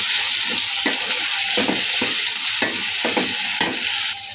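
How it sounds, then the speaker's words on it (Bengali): Chopped onion and garlic fry in oil for a dried fish curry, a loud, close, continuous sizzle broken by regular stirring scrapes roughly twice a second, with no talk. "পেঁয়াজ আর রসুন যে কাটা আছে সেগুলো এখানে দিয়ে দিব।"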